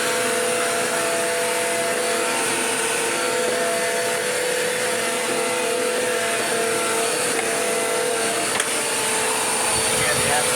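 A Bissell CleanView vacuum cleaner runs steadily on tile, a loud continuous motor whine with airflow roar that holds unchanged throughout, no voices breaking through.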